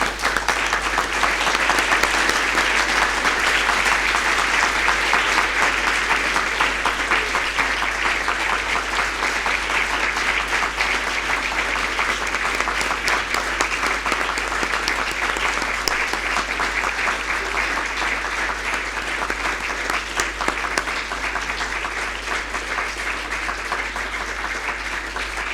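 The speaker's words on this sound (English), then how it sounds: "may we all please stand and give her a round of applause" A standing audience applauds a speaker at a film event, sustained dense clapping that carries evenly for about twenty-five seconds at moderate loudness, with no talk over it.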